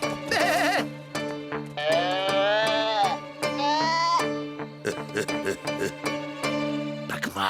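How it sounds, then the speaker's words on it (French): Cartoon sheep bleat loudly and repeatedly in a French animated western, wavering nasal cries overlapping one another close up, with bright clattering accents between them. "raison de plus pour nous débarrasser de ces sales moutons"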